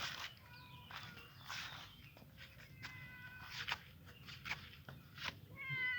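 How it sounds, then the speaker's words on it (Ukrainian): A domestic cat meows several times in a rural vegetable garden, short repeated calls spread across the moment with faint outdoor background and some footsteps. "Це наш кіт."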